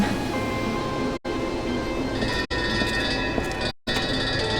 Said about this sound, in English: The train is departing!